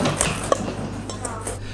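Cold butter being cut into an apple crisp topping in a bowl, a few soft clinks and scrapes of a utensil against the dish, close and quiet.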